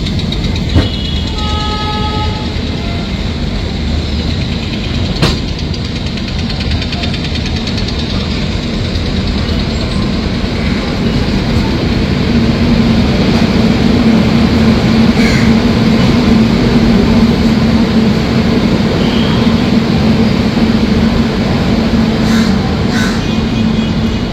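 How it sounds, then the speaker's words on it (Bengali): Inside a moving train on the Howrah to Puri route, the Howrah–Ernakulam Antyodaya Express passes in the opposite direction, producing a loud, continuous rail rumble and clatter that swells toward the end. "আর অপোজিট দিকে যাচ্ছে হাওড়া এনারকুলাম অন্তর্দয় এক্সপ্রেস।"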